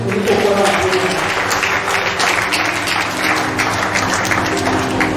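A church congregation applauds and cheers in praise, a dense, loud wash of clapping with voices calling out and singing mixed through it.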